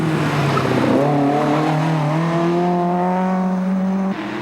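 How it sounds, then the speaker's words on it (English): Rally cars on a Targa Tasmania tarmac stage pass close by, engines screaming with rising and falling revs through gear changes and tyres squealing, loud and near with no talk. "The sounds of screaming engines and tortured tyres an annual hiccup in the otherwise tranquil"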